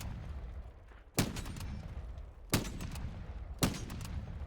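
Three loud, sharp anti-material rifle shots ring out in Helldivers 2, spaced slowly and evenly over a few seconds, each a heavy crack with a short echoing tail, with no voices.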